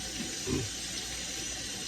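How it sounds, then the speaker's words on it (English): A kitchen tap runs water over garlic cloves with a steady, soft, close rush of flowing water and a brief splashy change partway through. "I like to just run mine under water"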